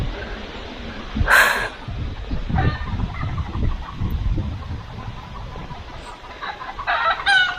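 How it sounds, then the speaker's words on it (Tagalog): Chickens cluck steadily around a rural spot while a rooster crows loudly at about one second and again near the end, with scattered bird calls and mild outdoor background noise. "May mga manok."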